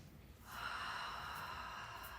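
A long, steady exhale of yoga breathing starts after a brief quiet moment and continues as a smooth, breathy rush of air close to the microphone, with no talking.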